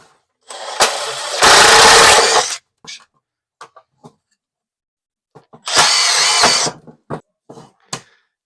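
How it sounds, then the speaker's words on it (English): Power drill boring 20 mm holes during a board relocation, with two loud sustained bursts of drilling separated by a quiet gap filled with small knocks and handling clicks. "I'm going to drill a bunch of 20 mil holes at the top and then the bottom"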